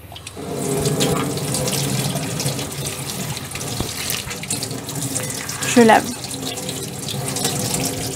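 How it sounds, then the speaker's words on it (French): A leek is rinsed under a running kitchen tap, with a steady stream of water splashing continuously throughout and a brief louder gush near the end. "Je lave le poireau. Avec de l'eau fraîche."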